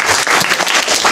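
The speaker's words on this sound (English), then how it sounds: "Let's give them a round of applause." An audience at hackathon pitches breaks into loud, dense applause, a close, continuous burst of many hands clapping.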